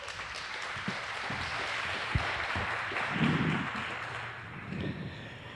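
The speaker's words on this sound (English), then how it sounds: "Please welcome with a very warm round of applause, Geert-Jan and Michel." An audience applauds to welcome speakers at an event on children and digital tools. The clapping is soft and fairly distant and holds steady, with a few louder thumps and a brief murmur of voices partway through.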